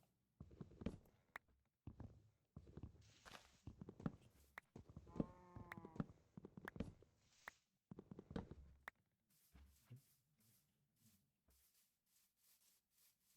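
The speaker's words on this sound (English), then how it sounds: "Oh, another cow." A cow lows in the blocky world of Minecraft, a short tonal moo amid soft rhythmic footstep scuffs, followed by quieter clicking sounds.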